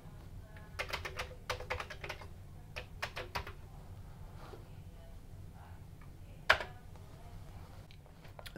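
Keystrokes on a Commodore 64 keyboard come in short bursts of clicks with pauses, close and fairly quiet, ending on one sharper key press.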